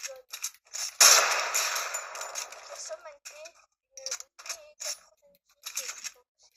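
A single loud, sharp heavy sniper rifle shot rings out in a video game, followed by a long decaying tail, with bursts of speech and smaller clicks scattered before and after it.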